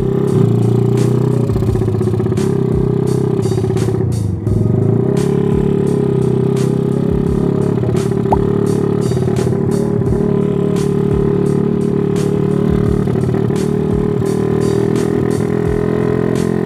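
A bored-up motorcycle engine with a flooded carburetor runs loud and close, a rough uneven idle that sputters and clatters with repeated stumbles and ticks.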